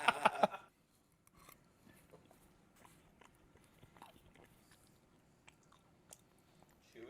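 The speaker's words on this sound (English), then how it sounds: "The fucking mango is like crunching in my mouth like it's candy" Crisp mango pieces in chili crunch under close, quiet chewing, a string of small irregular bites after a brief louder burst at the start.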